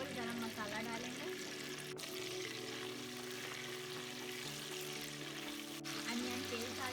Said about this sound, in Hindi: पैन में ऑयल गरम करके जिंजर गार्लिक पेस्ट डालेंगे। और गरम मसाला डालेंगे।